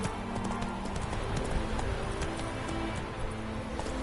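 Hoofbeats of Roach, a horse in a video game, galloping at a steady quick clip-clop rhythm, loud and continuous throughout with a dense background.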